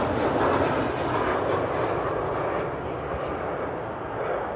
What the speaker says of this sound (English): Well, Delta's still rolling down the runway